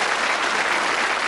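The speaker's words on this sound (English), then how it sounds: "Give him a round of applause." A television game show studio audience claps in a dense, loud burst of applause that fills the whole brief moment, with no talking over it.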